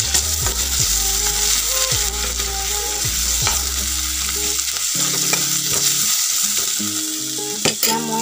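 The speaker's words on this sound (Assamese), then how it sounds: "এতিয়া মই বইল কৰি ৰখা আলুকণ ইয়াতে দি দিম," Boiled potatoes frying in a pan, a steady sizzle with scraping stirring strokes and clinks from the utensil against the pan, close by with no talk.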